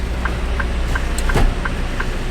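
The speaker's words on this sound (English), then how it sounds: "I'm parking my trailer." Truck parking its trailer at a distribution centre, a low steady engine drone with a series of evenly spaced short beeps and a brief rising squeal partway through.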